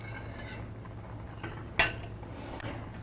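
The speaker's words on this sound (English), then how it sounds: "First I'll take off some of this foam." A spoon skims foam off small-batch strawberry jam cooking in a pot, making a single sharp metallic clink against the rim amid a few faint scrapes over a low, quiet background.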